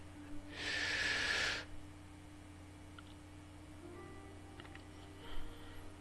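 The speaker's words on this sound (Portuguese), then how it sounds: "A gente inspira, inspira novamente" A single deep inhalation during a guided breathing exercise, a close airy rush lasting about a second near the start, followed by quiet room tone with faint ticks.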